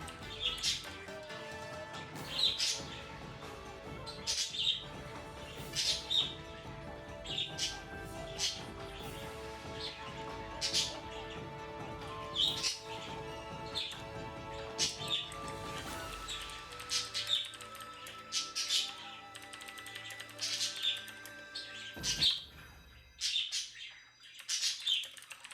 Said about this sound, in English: Jesus Christ, these birds